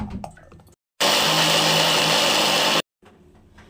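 A mixer grinder whirs loudly as it grinds soaked grains dry in its jar, running in one continuous high-pitched burst of about two seconds. Quieter rattling comes before and after it, with a short silence on each side.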